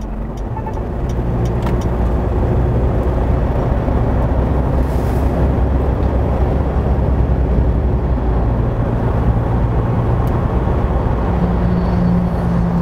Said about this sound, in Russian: и автомобиль начинает сам разгоняться